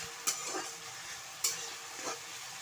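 Ground spices being stirred into a sizzling pan while cooking a shahi korma, with a steady hiss of frying and a few sharp scrapes of the spoon against the pan.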